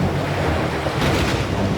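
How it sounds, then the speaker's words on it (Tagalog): Ocean waves and stormy surf crash and roll continuously against a prince's ship in a sea-witch's storm, loud and close, with gusting wind noise and no talk. "Dahil sa sumpa ng mangkukulam ng karagatan, sinira ng mga alon ang barko ng prinsipe."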